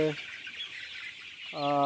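Poultry-farm chickens just moved from a brooding shed to a larger farm shed cluck in short, close, harmonic calls at the start and end, with a soft shed hum between.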